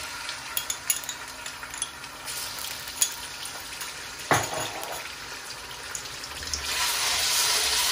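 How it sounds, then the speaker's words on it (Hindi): Ginger garlic paste frying in a pan while being stirred for a potato curry, with a steady sizzle and scraping stir strokes, a sharp hiss as the paste hits the hot oil, then continuous frying noise. "एक दो सेकंड इसको हिलाएंगे और साथ ही हम डालेंगे जिंजर गार्लिक की पेस्ट"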